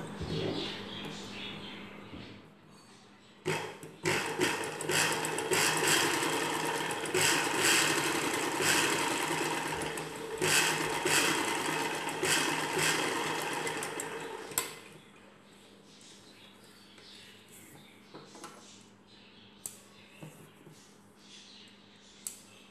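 Sewing machine running in a steady burst while stitching stretched elastic onto a girls' night dress, loud and continuous for about eleven seconds, then stopping and leaving a quiet room with a few faint clicks.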